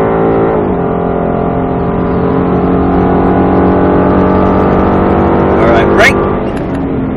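A Ford Mustang Shelby GT engine roars loud and close on a track at Speed Vegas, climbing at the start and then holding a steady, heavy drone with a brief sharp sweep near the end, a voice briefly audible over it.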